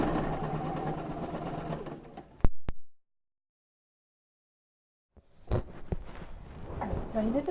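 A sewing machine stitches two pieces of blanket fabric together in a continuous whirring run close by, ending with a couple of sharp clunks, then silence, followed by handling knocks and rustling.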